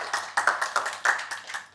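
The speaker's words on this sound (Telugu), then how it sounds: "అందరూ ఒకసారి చప్పట్లతో" A small audience claps together in a short, uneven burst of hand claps, fairly close and alone without talk.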